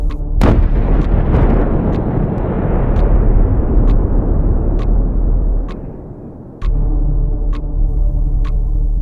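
A single heavy detonation inside an old collapsed mine tunnel bursts out loudly, then rolls into a long, deep rumble that drops to a steady low drone, with sharp, evenly spaced ticks repeating throughout.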